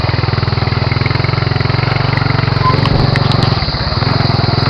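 A motorcycle engine idles or runs steadily on a road trip toward a hot spring, with a loud, close, fast rhythmic throb that wavers briefly near the end.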